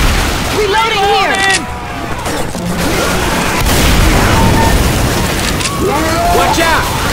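Gunfire and booming bursts from the Left 4 Dead 2 video game crackle loudly through a busy, chaotic mix, with shouting voices talking over the shots.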